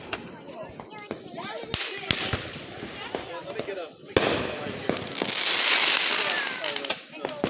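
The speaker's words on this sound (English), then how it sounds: "Fireworks shooting and lighting." Fourth of July fireworks crack and pop repeatedly, sharp bursts scattered throughout with a dense crackling stretch midway, while people talk and cheer nearby.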